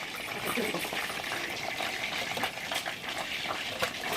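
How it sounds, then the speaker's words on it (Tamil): Brinjal pieces frying and sautéing in oil in a pan for Tamil ennai kathirikkai kulambu, giving a steady close crackling sizzle with soft bubbling throughout, no voices over it. "எல்லா கத்திரிக்காயும் இதே மாதிரி நல்லா வதக்கி எடுத்துக்கோங்க."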